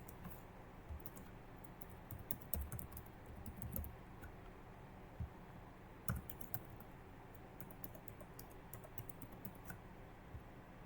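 Password typed on a computer keyboard, a quiet run of soft, uneven key clicks with a few sharper taps, heard close against a low background hum.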